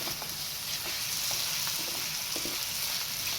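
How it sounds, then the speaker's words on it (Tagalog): Garlic and onions sauté together in a hot pan, a steady bright sizzle with occasional soft clicks and scrapes from stirring, close and continuous without any talk. "gisa gisa muna bawang saka sibuyas na sama-sama na sila dyan halo-haloin ulit natin"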